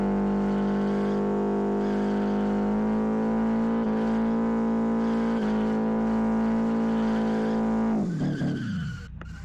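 Car engine held at high revs while its tyres spin and burn out in the racing simulator Live for Speed, a loud steady drone that drops away abruptly near the end.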